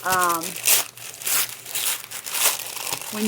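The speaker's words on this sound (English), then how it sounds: "I love the crinkliness of the masking paper." Crisp crinkling and rustling of masking paper being handled, close up, with a brief voice at the start and soft crackles throughout.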